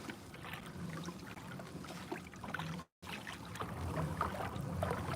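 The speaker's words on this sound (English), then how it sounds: "Don't you just love to hear that water?" Soft lapping and trickling water surrounds a kayak on a warm Georgia outing, gentle close splashes and drips under faint wind, with a brief gap in the middle.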